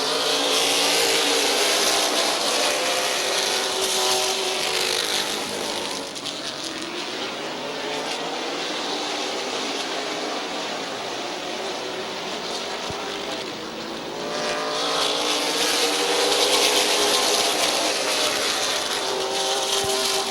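Late model race cars roaring past at Midvale Speedway on a green flag start, loud engines rising and falling as the pack sweeps by, swelling near the start and end with a dip in between.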